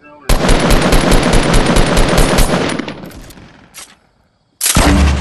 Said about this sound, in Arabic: رشاش